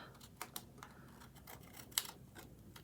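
Scissors snip along the sides of a paper envelope, faint close crisp clicks and short cuts in an irregular rhythm, with one sharper snip near the end and no talk.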